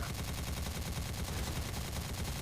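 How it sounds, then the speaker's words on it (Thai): Rapid continuous gunfire during a police shootout in a video game, a steady dense stream of shots without pause, fairly faint. "นี่กูยิงนะกูยิงนะกูยิงนะ กูยิงไม่หยุดนะ"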